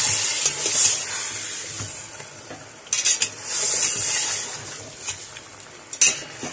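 Lamb head meat curry frying and being stirred in a pot, with a steady sizzle under repeated scraping strokes of the spoon and occasional metallic knocks, close and continuous, no talking.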